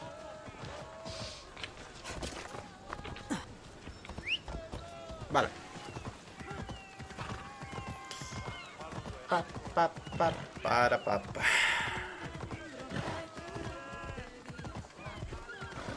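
Horse galloping with neighs in Assassin's Creed Odyssey, hoof clip-clops and whinnies mixed with game sounds under frequent excited Spanish talk.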